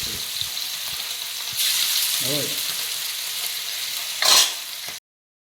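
Fish fries in hot oil in a pan for a home-style Kerala fish curry, a constant close sizzle that swells louder midway, with a few clinks and a brief burst of spattering before it cuts off.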